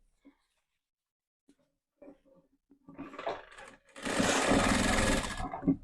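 A sewing machine stitches a ready-to-wear belted saree, running in a steady burst near the end after someone speaks briefly and a few faint taps.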